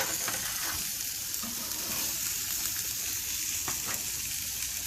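Burgers sizzle on a Char-Broil Signature two-burner infrared gas grill, a steady close hiss and crackle with occasional sharper pops throughout.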